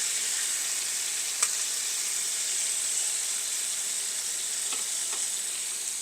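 Chicken browning in a pan with tomato, a steady close sizzle and fry hiss continuing evenly, with a couple of faint clicks and no talking.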